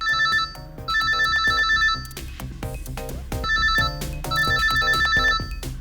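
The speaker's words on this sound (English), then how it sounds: "Hey, Stell, your phone is ringing." Mobile phone ringing with a loud, repeating electronic ringtone melody in bursts, with no talk.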